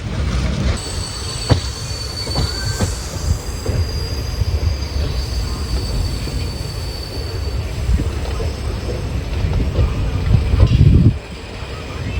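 Diesel-locomotive passenger train on the Payyanur to Nilambur line: a continuous loud rumble of wheels on track heard from aboard, with high steady wheel squeals, a few sharp clanks, and a heavier rattling surge near the end.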